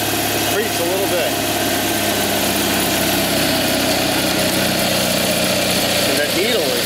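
A 20hp Kohler Magnum engine idles on a Simplicity Sunstar lawn tractor with a loud, steady, slightly uneven chugging over broad mechanical noise, close to the microphone, with someone talking briefly.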